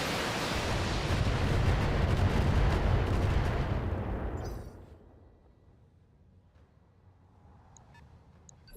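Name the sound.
mech weapons opening fire in a video game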